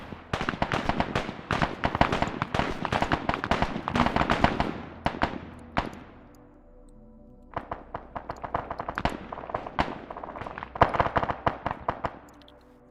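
Rapid bursts of gunfire in a military squad video game, dense volleys of sharp shots and impacts, a brief lull midway, then more scattered and clustered firing, close and loud with no talk.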